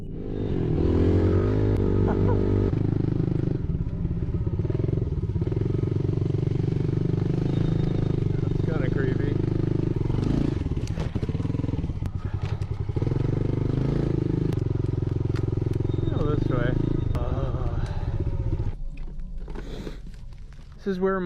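A motorcycle ridden through a forest in the afternoon, its engine a steady, close, loud drone held throughout, with occasional clatter and scraping over the top.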